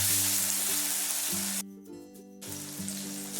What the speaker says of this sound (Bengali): এরপর তেলের মধ্যে দিয়ে দিচ্ছি একটা এলাচ, একটা তেজপাতা আর কেটে রাখা পেঁয়াজগুলো নরম হওয়া পর্যন্ত আমি নাড়ব।